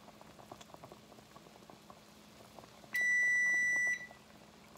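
An oven gives one sustained electronic beep about a second long on reaching temperature, sounding over the soft bubbling of a pot of boiling water where bagels are being cooked.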